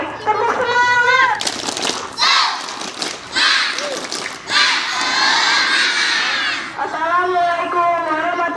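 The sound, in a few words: schoolchildren doing a spirit clap chant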